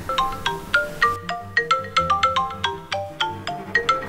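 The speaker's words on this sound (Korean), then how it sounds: "계속 전화 안 받을 거야?" A mobile phone ringtone plays a bright, repeating melodic pattern of short chiming notes in a steady rhythm, ringing on unanswered for several seconds, close and clear with no voices over it.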